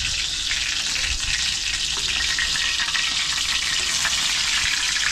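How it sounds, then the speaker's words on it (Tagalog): Food frying in a pan with Coca-Cola, a loud, steady close sizzle with a little stirring, continuous for about five seconds with no talk. "Prito lang natin na maigi para masarap."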